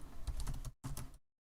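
Quick keystrokes clatter on a computer keyboard in a dense close burst, pause for a split second, then resume briefly before stopping.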